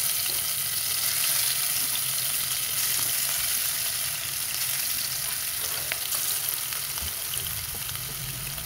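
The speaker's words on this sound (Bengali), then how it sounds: "তেল গরম হয়ে আসলে এখানে ভেজে নেব টাকি মাছ" Taki fish frying in hot mustard oil in a pan, a steady bright sizzle with crackling pops, close and continuous, with no voices.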